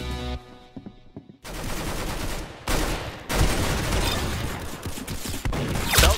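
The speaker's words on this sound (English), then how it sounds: "That's some beautiful shooting right there." Video game gunfire rattles out in rapid automatic bursts, loud and close, with short pauses between volleys and a final dense stretch of continuous shooting, with no talking over it.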